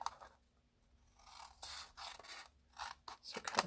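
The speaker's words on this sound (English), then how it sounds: "we will cut these flaps" Scissors slice through paper flaps on a folded paper treat chest, several short rasping cuts in quick succession with brief pauses, close up and moderately quiet.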